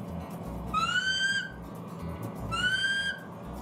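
A shepherd's whistle gives two clear, bright blasts, each rising in pitch and lasting under a second, separated by a short pause, alone against a quiet background.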